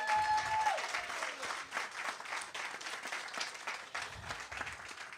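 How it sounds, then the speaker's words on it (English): A crowd applauds steadily at the start of a mall demolition event, dense clapping filling the full stretch at moderate volume with a few brief voices mixed in. "give everybody a round of applause tonight"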